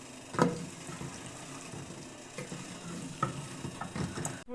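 Chicken with whisked yogurt fried and stirred in a pot for biryani, a low steady sizzle with scattered scraping and clicking stir strokes, one sharper clatter near the start.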